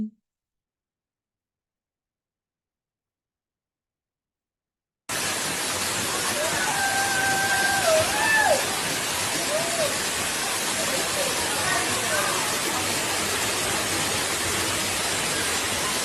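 Steady rush of flowing water, a broad continuous wash that begins abruptly after several seconds of silence and holds at an even level, with a few faint tonal sounds briefly above it.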